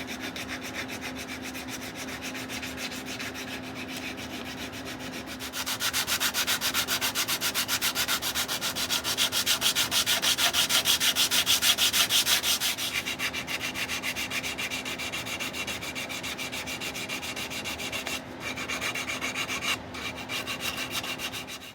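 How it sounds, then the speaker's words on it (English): Oak dresser feet, clamped in pairs onto a square piece of wood, have their corners sanded down: a steady, loud, abrasive hiss that starts after a short quiet stretch and runs continuously with slight swells and one brief dip. "I'm clamping all the pairs onto a square piece of wood so I can sand down the corners."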